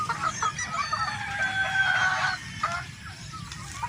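Chickens, hens and roosters, at a game farm fill the air with dense clucking and overlapping crowing, loud and close, a busy flock with no pause.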